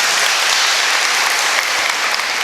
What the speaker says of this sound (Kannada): ನಿಮ್ಮ ಜೋರಾದ ಚಪ್ಪಾಳೆಯ ನಿರೀಕ್ಷೆಯಲ್ಲಿದ್ದೇನೆ